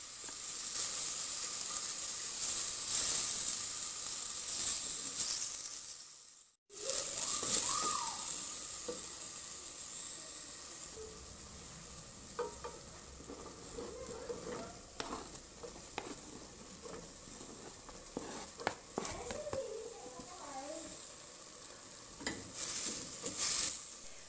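Onions fry in a pan for a potatoes and peas dinner, a soft, continuous sizzle with scattered stirring clicks and crackles, broken by a short gap early on.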